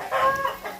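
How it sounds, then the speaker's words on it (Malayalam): A brief, close chicken cluck, a quick drawn-out call standing alone. "ഇവിടെ കോഴിയൊക്കെ ഉണ്ട് കേട്ടോ"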